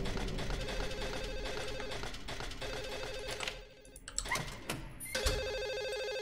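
A telephone rings in the horror video game Silent Hill 4. It is a steady, repeating electronic ring, loud and continuous, layered over dense game ambience and droning music.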